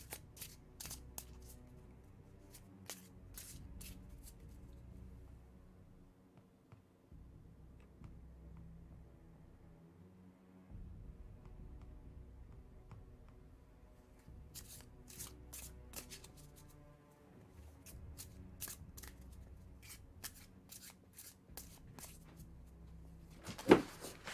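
Playing cards are shuffled repeatedly in quick riffling bursts, close and fairly quiet, with short pauses between rounds.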